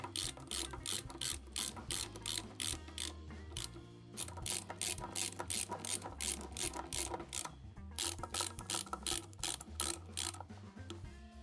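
Rapid ratchet clicks repeat in quick bursts while tightening fasteners on a springer front end of a custom chopper during a front disc brake install, close and steady, with brief pauses between runs and no talking.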